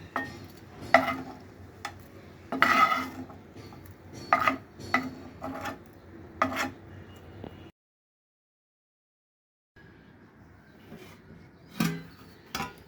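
Fried meat scooped from a pan into a bowl: a run of sharp metal scrapes and clinks, then a brief silence, then a few more scrapes and a final clack.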